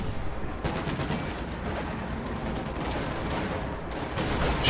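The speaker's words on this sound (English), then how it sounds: "That's a pretty good artillery barrage." Dense artillery barrage in Company of Heroes 2, a continuous loud rumble of overlapping explosions and shellfire with repeated sharp blasts across the whole stretch and a heavier boom near the end.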